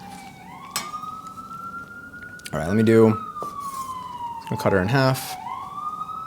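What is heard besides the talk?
emergency vehicle sirens outside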